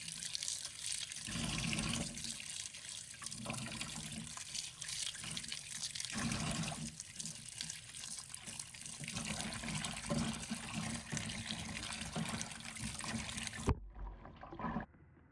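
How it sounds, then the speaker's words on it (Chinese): Running tap water pours steadily into a basin as celery stalks are rinsed one by one, a continuous splashing gush with shifting swells, alone without voices, cutting off abruptly near the end. "用流动水把它一根一根的清洗，把表面的泥土和杂质洗掉"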